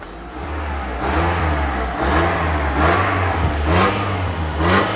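Engine of a Toyota Picnic MPV revving repeatedly toward 6000 RPM, loud and close, rising in rhythmic throttle blips over a steady idle.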